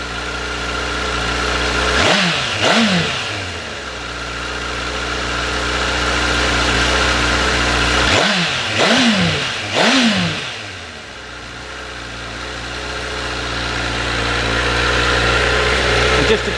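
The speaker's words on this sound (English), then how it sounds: "we will just give the throttle a quick flip, just to give you an idea of how she sounds" A Honda CBR1000RR motorcycle on a chilly morning idles steadily, then the throttle is flipped in quick pairs of sharp revs that rise and fall back, three separate bursts over a constant close, loud idle.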